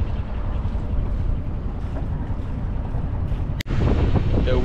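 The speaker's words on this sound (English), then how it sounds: "I've just been motor sailing" A small sailboat motor-sails upwind in light air, the engine's steady low drone mixed with wind buffeting the microphone and water rushing past the hull, broken once by a brief dropout.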